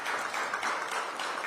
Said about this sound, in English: Give Kenyon a big round of applause.